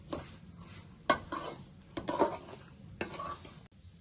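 A spoon scrapes and clinks against a metal pan, stirring sugar into roasted grated coconut and semolina, in quiet irregular strokes with sharper knocks between them.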